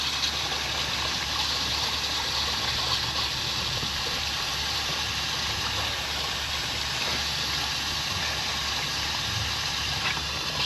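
Water from an RV holding tank gushes and drains steadily through a disposal hose, a continuous close rushing flow with no talk.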